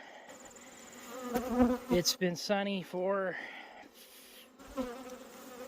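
Honeybees buzz around white asters while someone talks over them, his voice dominating the middle of the stretch.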